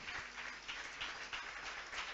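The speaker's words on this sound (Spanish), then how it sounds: "Aplaudan al Rey de Gloria" Church congregation at a Pentecost service clapping together, a rhythmic, fairly faint patter of many hands with regular beats.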